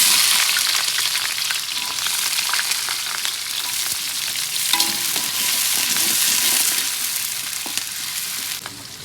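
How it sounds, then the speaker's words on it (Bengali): Onion and green chili frying in hot oil for water spinach greens: a loud, continuous, close sizzle with occasional stirring scrapes and pops throughout, and nobody speaking. "তেলটা গরম হয়ে গেছে, পেঁয়াজ আর কাঁচামরিচ দিয়ে দেবো"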